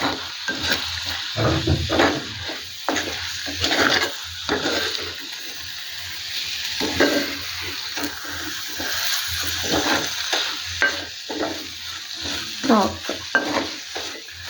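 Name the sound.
stirring prawns in hot oil in a pan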